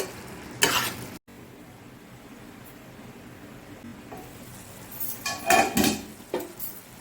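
Cabbage curry with ghee and garam masala stirred in a pan: bursts of metal spatula scraping and clanking against the pan over a soft background sizzle, close, with a quiet pause between the stirring spells and no speech.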